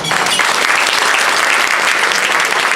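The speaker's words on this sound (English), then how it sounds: "have recognitions for Ellie and Miss Ferry, if we can give them a round of applause as well." A round of applause from the audience at a Woman of the Year awards ceremony, steady dense clapping that stays loud and even throughout with no voices over it.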